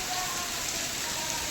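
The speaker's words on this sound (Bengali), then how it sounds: "বৃষ্টির সাউন্ডটা আপনারা শুনতে পাচ্ছেন তো" Heavy rain pours steadily in Chennai, a dense, even hiss of drops on surfaces that fills the whole moment without a break and with no voices.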